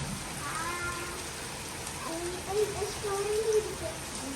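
Heavy rain pours in a steady hiss during a thunderstorm in Pune, with a cat meowing faintly nearby and someone speaking over it.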